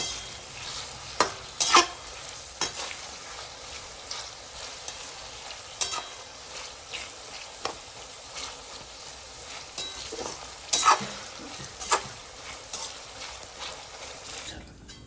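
Onions fry in oil for biryani, giving a steady sizzle with frequent scraping and clattering stirs in the pan. The stirs come close and fairly loud, with no talking.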